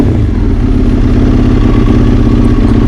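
A motorcycle engine runs loud and close, holding a steady, rough, throbbing idle with a dense low rumble and no voices over it.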